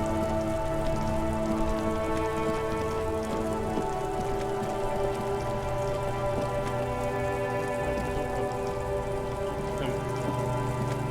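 Steady rain in the video game Disco Elysium falls without a break, close and even, over low tonal game music.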